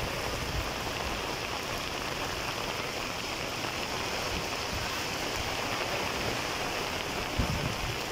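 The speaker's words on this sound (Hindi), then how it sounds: "इससे अंदाज़ा हो सकता है कि कितने ज़ोर की बारिश आ रही है।" Heavy rain pours down in Makkah, a dense, steady, continuous hiss of water falling on surfaces, heard nearby and without a break throughout.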